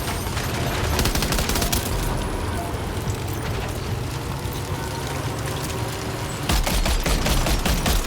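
Dense, sustained automatic gunfire from the video game Death Stranding 2 on PS5, a loud continuous roar of rapid shots and blasts that swells again near the end, with no clear talk.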